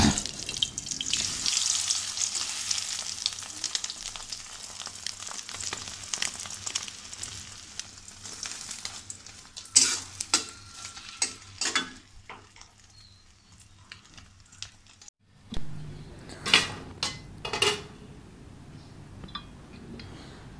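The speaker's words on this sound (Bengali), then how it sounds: "তো একটা ডিম ভেজে নেবো" An egg frying in a pan, a bright crackling sizzle that is strong at first, then fades, followed by a few sharp kitchen clatters and a brief splash of running water.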